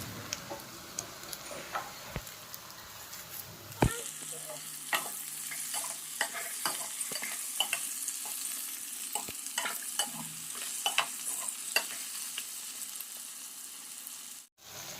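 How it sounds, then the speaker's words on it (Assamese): Chopped tomatoes sizzling in a pan while being stirred for a pork dry fry, a soft continuous crackle with frequent light scraping taps of the spoon, growing busier partway through, close and fairly quiet with no voices. "বিলাহীখিনি অলপ অলপকৈ সিজিছে আৰু অলপ ভাজি থাকিম।"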